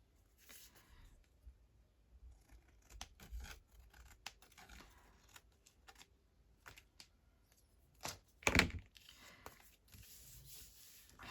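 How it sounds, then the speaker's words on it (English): Scissors snip through paper craft card, producing quiet close scratchy cuts that build to a sharper crunch near the end, with no voices. "we'll wait for that to dry, and I need to cut this bit here."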